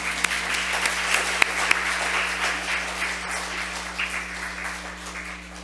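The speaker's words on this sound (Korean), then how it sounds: "열심히 잘 하라고 우리 격려의 박수를 한번 쳐주세요." A church congregation claps in encouragement during a Sunday service, giving steady, moderately loud applause with a few sharp individual claps standing out over a constant low electrical hum.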